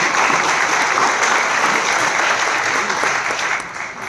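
Sustained applause at a Delhi Dr. Babasaheb Ambedkar conference, welcoming two BJP corporators from Diu, Hina Solanki and Chintak Solanki; dense steady clapping from a large hall audience that thins slightly toward the end.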